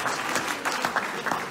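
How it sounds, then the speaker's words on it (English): Applause rings out across a gala fundraiser crowd for a big donation, a steady burst of many hands clapping that carries through from start to finish, with faint voices mixed in. "Another round of applause for that big donation."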